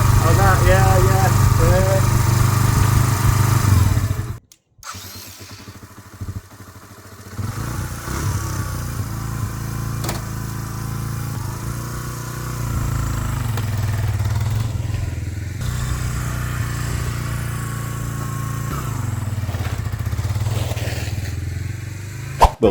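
A Suzuki Marauder motorcycle, revived after six years sitting in a barn, idles with a steady low engine rumble and some clatter after a brief cutout, running loud and close for most of the stretch.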